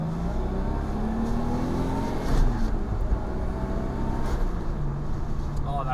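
Nissan R33 Skyline sedan with a turbo running extra boost, its engine droning steadily through a pull from inside the car, a constant loud hum with a slight swell midway.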